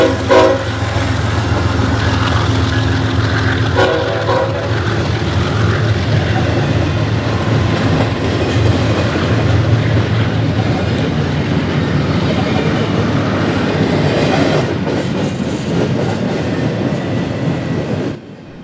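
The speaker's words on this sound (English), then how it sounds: "This train was all bare tables, headed to where they would be needed next." A freight train of empty flatcars passes through the Galesburg rail yard during Railroad Days, a loud, continuous rumble with rhythmic wheel clatter and a horn sounding near the start, holding steady close by before easing off at the end.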